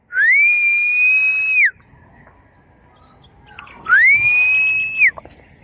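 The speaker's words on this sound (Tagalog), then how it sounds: "Sipol tayo." Two long, steady whistled tones from a person, each held for over a second with a rising start and falling end, separated by a quiet pause on a calm, windless overcast day.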